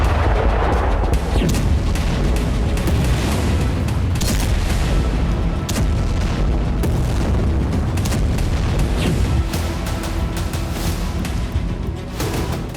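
Heavy booming blasts from Ukrainian drone strikes in Russia roll one after another in a dense, continuous barrage, loud and thunderous with crackling bursts throughout and no voices.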